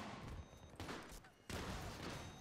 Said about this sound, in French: Oh là, oh il a abusé ce shotgun